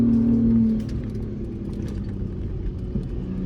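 A 2025 Ford Bronco Raptor driving on the sand dunes at Silver Lake: a steady, close engine rumble with a brief higher whine at the start that eases into an even drone.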